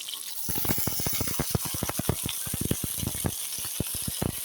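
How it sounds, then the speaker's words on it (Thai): Pandan leaves and young cicadas fry in boiling oil, giving a steady, loud sizzling hiss dotted with dense, rapid crackles and pops from start to finish, with no voices. "ยายนางตั้งน้ำมันให้เดือดยายนางใส่ ใบเตยลงไปค่ะเดี๋ยวจะนั่งเอาจักรจันทร์นี่ลง"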